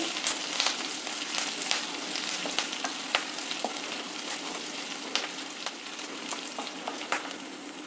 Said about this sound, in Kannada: ಒಗ್ಗರಣೆ ಎಲ್ಲ ಫ್ರೈ ಆಗಿದೆ ಈಗ